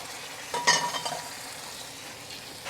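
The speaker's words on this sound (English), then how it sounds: "we're just going to kind of pour this over with the rice, and then we're going to let this render down" Liquid poured over rice in a Kamado Joe Karbon Steel paella pan, giving a steady close sizzle that swells briefly with a splash and spatter, then settles into an even hiss with no talking.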